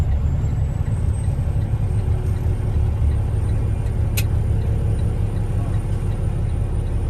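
Cab view of a 2013 Freightliner Cascadia 125 truck pulling away in third gear: a loud, steady low diesel drone throughout, with a brief sharp air hiss partway through.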